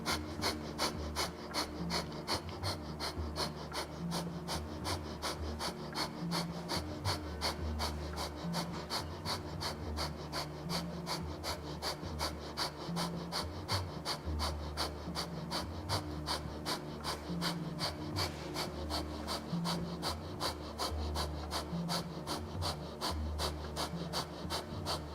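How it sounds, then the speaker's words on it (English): Rapid, rhythmic breath of fire during a live Kundalini yoga class, a steady stream of short forceful exhalations repeating evenly for the whole stretch at moderate loudness, with a low hum of music or room tone beneath. "breath of fire."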